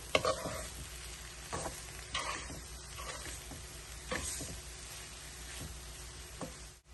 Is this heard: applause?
no